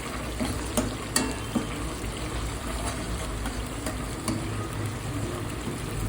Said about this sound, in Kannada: ಸೊ ಇದನ್ನು ಚೆನ್ನಾಗಿ ಫ್ರೈ ಮಾಡ್ಕೊಳ್ಳೋಣ ಎಣ್ಣೆಯಲ್ಲಿ